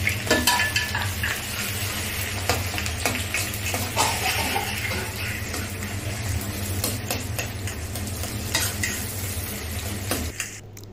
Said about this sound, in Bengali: আবার এখানে কিছু পেঁয়াজ ভেজে নিচ্ছি, বেরেস্তা করে নিচ্ছি